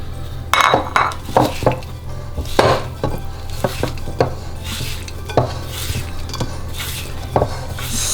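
Christmas pudding mixture with mixed spice being stirred in a bowl, the spoon clinking and scraping against the sides in irregular bursts with soft thuds, close up and with no talking.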